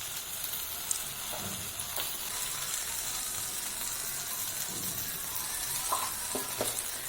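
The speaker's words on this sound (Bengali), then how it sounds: "দিয়ে এবার তেলের ওপরে আমি কুলটাকে কিছুক্ষণ নুন আর হলুদ দিয়ে একটু ভেজে নেব।" Jujubes frying in hot oil with salt and turmeric in a pan, a steady close sizzle with occasional stirring scrapes.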